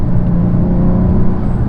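A 2017 Maserati Quattroporte engine drones loud and steady from inside the cabin while it holds a gear under acceleration, a continuous low rumble with no break.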